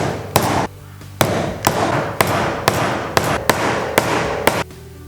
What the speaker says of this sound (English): I just punch the holes and set these rivets.